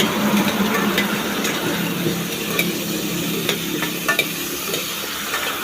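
Chicken liver and gizzard sautéing with garlic in a pan, a close steady sizzle with stirring and occasional clinks of a utensil against the pan.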